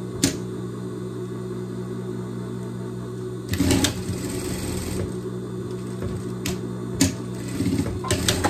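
An overlock sewing machine stitches fabric for a pet bikini with a steady mechanical whir, broken by a few sharp clicks and short louder bursts, close by and moderately quiet, with no speech.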